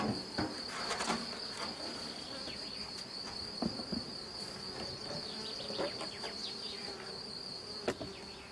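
Honey bees buzzing continuously as a colony is moved from a nucleus box into a full hive, with individual bees passing close in swooping drones over a steady background hum and no talk.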